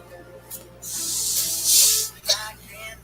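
Weed killer sprays from a sprayer in a sustained, loud hiss lasting about a second and a half, followed by a shorter burst, with no voices.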